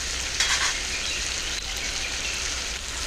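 Vegetables sizzle steadily while being stirred in a frying pan, with ridged gourd and prawns cooking; a constant hiss, no talking.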